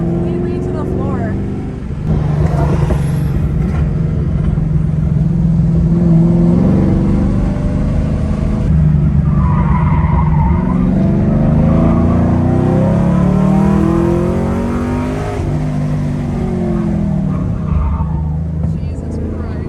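Camaro with bolt-on upgrades under hard braking on a race track, a loud, steady engine roar that shifts pitch as the car slows, with people talking over it throughout.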